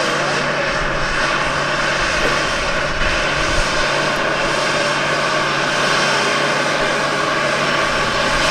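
A Boeing 737 airliner passes close in front at Amsterdam Schiphol Airport, its engine roar loud and steady for the whole stretch with no talk.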